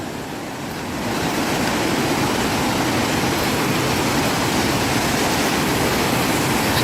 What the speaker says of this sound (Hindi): हमें वाटरफॉल नज़र आ रहा है अभी